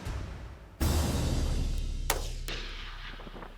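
A hunting rifle fires a single loud shot at an animal in an African long-range hunt, heard from close by, followed by a long rolling echo that fades slowly and a couple of faint distant impact-like cracks.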